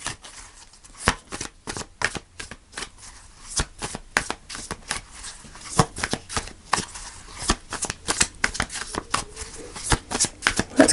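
Tarot cards being shuffled for an Aries weekly reading, a steady run of riffling, flapping card sounds with sharp slaps, close and moderately loud, with no talking over it.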